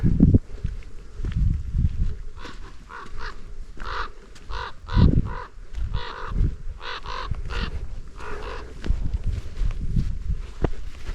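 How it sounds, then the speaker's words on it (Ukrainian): A bird calls repeatedly outdoors, a series of rhythmic honking notes at moderate distance over low rustling and wind noise. "Ой якась пташка цікава така."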